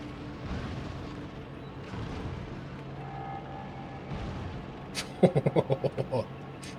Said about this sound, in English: fire the cannon up